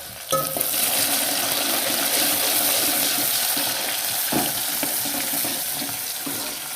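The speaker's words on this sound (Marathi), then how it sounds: "कांदा आपल्याला थोडासा लालसर होऊ देत." Chopped onion sizzling in oil in a pan as it browns toward reddish for ambat varan, a loud continuous frying hiss up close with a few stirring clinks, no talking.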